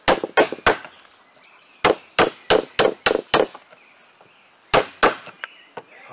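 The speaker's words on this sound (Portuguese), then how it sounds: "Estamos fazendo uns encaixes para encaixar o degrau nos pilares." Sharp, hard wooden strikes from chiseling joints into pitanga branch posts for stair steps, coming in quick clusters of three to five blows separated by short pauses, close and loud with no talking.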